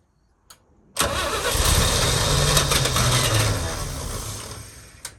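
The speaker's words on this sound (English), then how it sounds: "Once it cranks, get off that key." A 1966 International Harvester 1100A truck that sat entombed for 24 years is cranked over, a loud, steady, close grinding churn of the starter that starts abruptly after a brief click and runs for several seconds before easing off.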